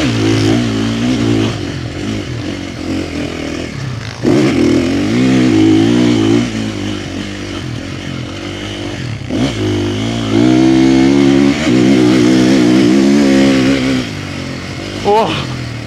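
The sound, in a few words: 450 motorcycle engine revving while riding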